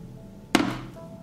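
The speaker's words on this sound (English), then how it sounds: "I put the pan on the stove." A pan set down on a stove, a single sharp clunk of metal that rings briefly and fades, with quiet room tone around it.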